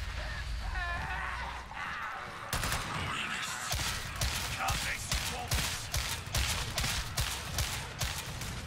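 Rapid, sustained bursts of lasgun fire in the Warhammer 40,000 game Darktide, dense repeated shots from about two and a half seconds onward, with some chatter and a voice heard faintly early on.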